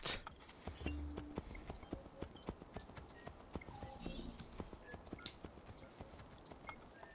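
Horse hooves clip-clop at a walking pace in Assassin's Creed Brotherhood, a steady series of light, fairly close knocks over a faint game ambience with no talk.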